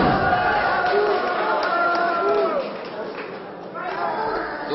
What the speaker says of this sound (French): les hurlements que vous entendez proviennent non seulement de la foule, mais de ces messieurs